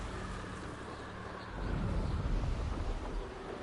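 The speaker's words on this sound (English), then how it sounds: "Windy up here." Wind gusting high in the air during broom flight in the video game Hogwarts Legacy, a steady low rumble that swells louder midway and stays strong to the end, with no talk.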